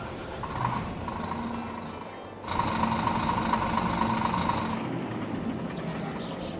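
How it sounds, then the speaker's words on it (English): A John Deere 4940 sprayer engine in the Farming Simulator game starts up and idles with a steady mechanical hum and whine, stepping up louder partway through and then settling into a continuous drone. "I'm going to turn over that engine so you guys can hear it."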